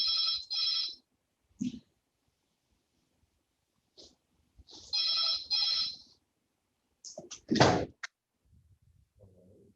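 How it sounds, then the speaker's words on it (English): A classroom telephone rings in short bursts of two electronic trills that repeat after a pause. Faint noises and brief voices follow, and a louder sound comes near the end. "The classroom phone just rang."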